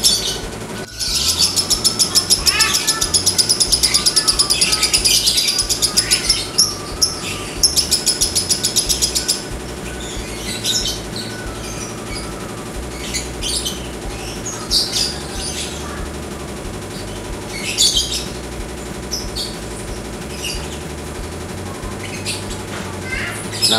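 A lovebird in a constant, compulsive singing state chirps and trills rapidly without pause. The calls are loud and dense for the first nine seconds, then continue as bursts of bright chirps over a steady background hum.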